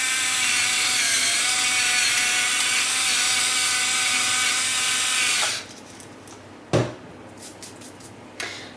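A pepper mill grinds pepper in a steady, dense crunching rasp for about five seconds, then stops, leaving a few light clicks and knocks in a quiet kitchen.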